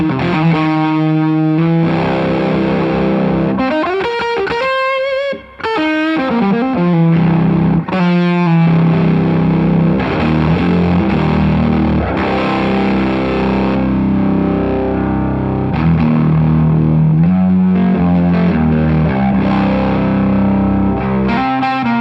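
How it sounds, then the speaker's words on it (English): An electric guitar played through a JAM Pedals Fuzz Phrase fuzz pedal via a wireless system, thick distorted chords and sliding single-note lines, loud and continuous with no talking. "let's go for the fuzz phrase first"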